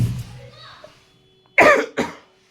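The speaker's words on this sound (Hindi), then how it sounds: "सॉरी दोस्तों, बहुत खांसी आ रही" A man with a cold coughs twice in quick succession, two sharp, loud bursts after a moment of quiet, close to the microphone, with a little speech-like sound at the start.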